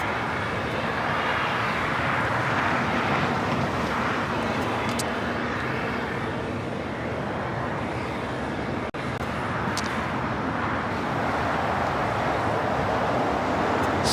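Airplanes at LAX airport, including a Boeing 777-300ER near runway 25 Right, make a steady, distant jet roar that blends with a broad rumble of background traffic.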